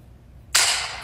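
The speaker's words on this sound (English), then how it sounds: "was that a gunshot?" A single sharp gunshot in a Roblox game bursts out suddenly after a quiet stretch, loud and close, with its noisy tail lingering briefly before a second short crack follows at the very end.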